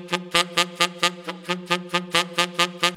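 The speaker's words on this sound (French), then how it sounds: "Je vais te faire la différence entre un piqué et tout de suite après le dot" A saxophone plays the same note over and over in short, evenly spaced detached strokes, about a dozen in a row. The tone is clear, close and unaccompanied, with no voice.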